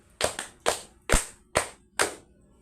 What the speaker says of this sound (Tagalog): bigyan natin ng 5 palakpak si Bungaos